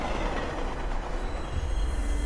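Steady, loud rumble of a metro train running through a movie scene, a continuous rolling rail drone with no speech over it.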